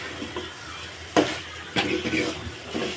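Vegetables with bitter gourd and potato sauté in oil in a pan, a low sizzle punctuated by a few loud scraping stirs of a spoon against the metal.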